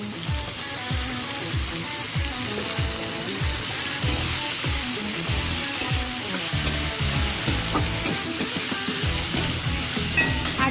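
Ginger and green chili paste fry with potatoes in a hot pan for a Bengali vegetarian chhanar dalna, a steady close sizzle with repeated scraping and stirring strokes throughout and no voices.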